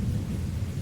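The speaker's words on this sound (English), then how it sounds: "But the storm outside roared louder" Heavy thunderstorm ambience, a deep, continuous low rumble of thunder over a bed of falling rain, loud and unbroken, with no voices present.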